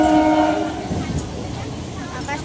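A train at Halishahar railway station, its horn blaring briefly at first, then the rumble of rail cars rolling past nearby.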